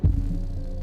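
A Telunshi M10 10-inch car subwoofer driven by a Taramps HD3000 amplifier lets out one brief, heavy low bass thump that booms loudly before holding as a deep rumble.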